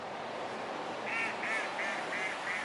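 Ducks outdoors giving a run of about five short, evenly spaced quacks, moderately distant and fairly faint over steady background hiss.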